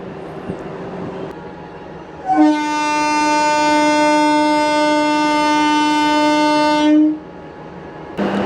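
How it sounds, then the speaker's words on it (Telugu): A DEMU passenger train sounds one long, loud, steady horn blast of about five seconds as it departs Makkajipalli station, with low rumble before and after. "మక్కాజిపల్లి నుంచి మన ట్రైన్ బయలుదేరింది"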